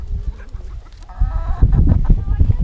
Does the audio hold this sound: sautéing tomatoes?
no